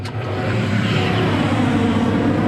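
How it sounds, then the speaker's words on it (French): A combine harvester's engine runs during the harvest, a continuous loud mechanical rumble and drone that holds steady with no pauses and no voices. "ça vous dit de refaire un petit tour dans la batteuse?"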